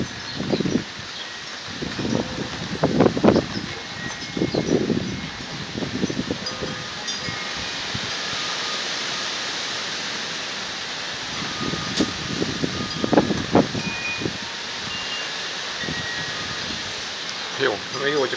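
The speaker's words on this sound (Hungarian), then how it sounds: "Ott már valamit burít a szél." Wind blowing through a poplar forest ahead of an approaching supercell storm, a steady rushing roar of leaves with louder gusts, while people talk intermittently nearby.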